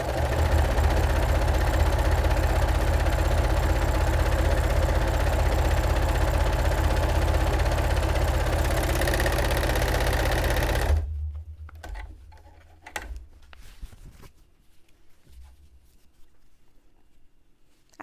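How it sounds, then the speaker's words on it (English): A serger sewing machine runs steadily with a fast, even mechanical whir for about eleven seconds, then stops abruptly, leaving faint scattered handling noises. "I'm just adjusting a serger live."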